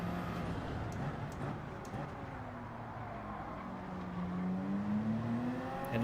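A Toyota Supra's engine climbs in pitch as it accelerates down a straight in Gran Turismo 7, a steady whining drone at moderate level with other cars faintly around it.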